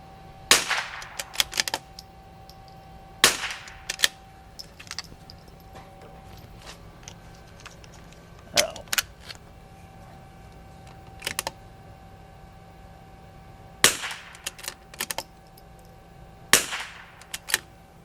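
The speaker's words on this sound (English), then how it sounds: "So I'm just gonna shoot a couple rounds" A rimfire CZ 457 rifle in an MPA Vanquish chassis fires a series of sharp, fairly close shots spread out over several seconds. Quieter bolt and magazine clicks sound between the reports, and no one speaks.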